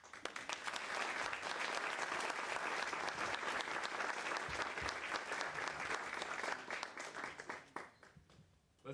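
A crowd at a school district staff recognition ceremony claps in sustained applause for several seconds before it thins out and fades.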